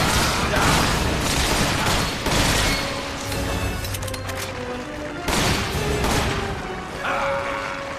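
Gunfire in Resident Evil 5 comes as several loud, sharp shots and bursts spaced across the stretch, with mechanical clatter and game effects between them.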